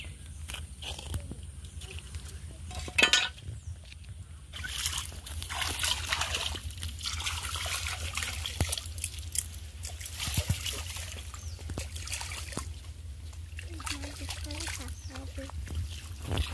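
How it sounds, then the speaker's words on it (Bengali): Hilsa fish is washed by hand in pond water at a bathing ghat. Gentle splashes and trickles continue throughout, with a sharp knock near the start and voices murmuring in the background. "পুকুর ঘাটে গিয়ে মাছটা ভালোভাবে পরিষ্কার করে ধুয়ে নিচ্ছি।"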